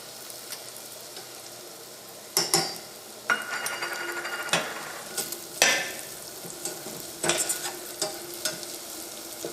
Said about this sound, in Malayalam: അപ്പോൾ മഞ്ഞൾപ്പൊടിയും എണ്ണയിൽ കിടന്ന് നന്നായിട്ട് മുരിഞ്ഞിട്ടുണ്ട്